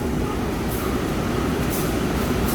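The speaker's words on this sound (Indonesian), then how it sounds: "kereta api Singasari KA 102 berangkat dari stasiun Gombong" Singasari KA 102 executive passenger train departing Gombong station in Indonesia, heard as a steady, close rumble of rolling rail cars with a constant low roar and faint hiss throughout, no talking.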